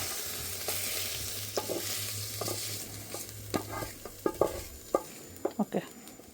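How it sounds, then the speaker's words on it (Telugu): Chicken pieces frying on high heat in a pan with butter and oil, a soft continuous sizzle under a run of sharp spatula clacks and scrapes that grow denser toward the end. "చికెన్ ఫ్రై అయిపోతుంది, వాటర్ రాదు."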